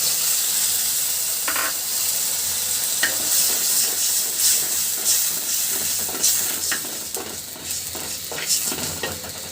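Spice paste with a bay leaf frying in a pan, a steady loud sizzle and hiss broken by scraping stirring strokes, with no voices.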